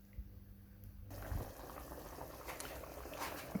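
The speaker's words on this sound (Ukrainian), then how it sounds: "Кипить м'ясо з цибулею і моркою у воді" Meat with onion and diced carrot simmers in water in a pot for pilaf, a soft continuous bubbling hiss that rises after a brief quiet start, close and low in level with no talk.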